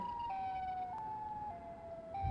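A siren wails in the Indian Bike Driving 3D video game, a steady electronic tone stepping down in pitch, then jumping back up, fairly faint against a quiet background.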